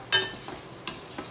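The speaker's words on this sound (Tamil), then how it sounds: "ஒரு தடவை லைட்டாக மிக்ஸ் பண்ணிடலாம்" Carrot poriyal gets a light stir in a frying pan, with a few quick scraping strokes of a spoon over a soft, steady sizzle, close up and without talk.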